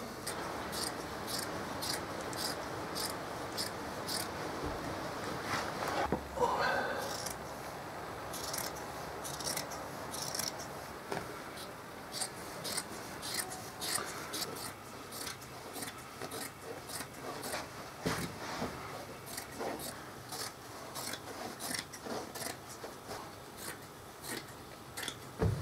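Scissors cut fabric for an early medieval Viking-style hood, giving a long series of crisp close snips in an irregular rhythm, steady and fairly faint, with no talk.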